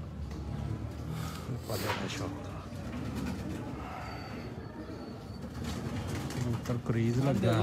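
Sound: breeder pigeons cooing

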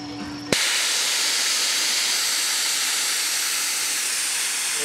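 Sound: air compressor tank being drained, hissing air

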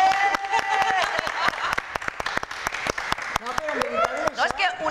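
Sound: applause

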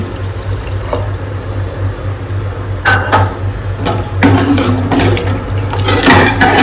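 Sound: water being poured into a cooking pot

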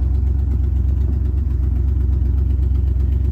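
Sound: 1975 Lincoln Continental car engine running

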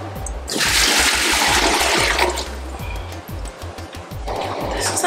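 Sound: running water filling a pot

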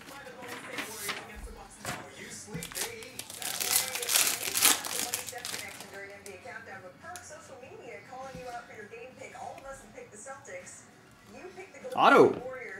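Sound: ripping open a foil trading card pack

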